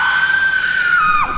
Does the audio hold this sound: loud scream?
yes